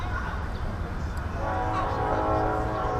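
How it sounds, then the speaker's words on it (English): A train rumbles by nearby in Bricktown, Oklahoma City, with a steady low roar and a sustained horn tone, while people chatter in the background. "Is that train coming down the road?"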